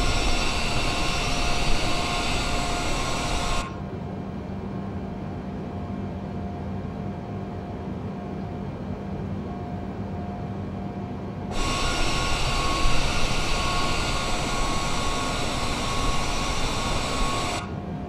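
A Boeing 787 lands at Seattle in Microsoft Flight Simulator 2020 with a loud, steady jet engine roar that drops to a quieter hum for several seconds before the full roar returns.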